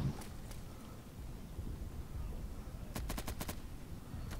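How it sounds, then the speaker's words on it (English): A rapid burst of about five closely spaced shots cracks out in the tactical shooter game Insurgency, preceded by a couple of isolated distant shots over a steady windy background. "I don't care how much rounds I put into someone as long as I get the kill"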